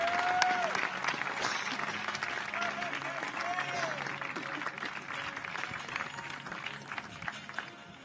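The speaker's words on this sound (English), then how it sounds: "Warm round of applause from the Team GB." A crowd at a women's pentathlon European Championships medal ceremony in Bath applauds warmly as an athlete steps onto the podium, with steady clapping, crowd noise and a few whistles, while a commentator talks over it.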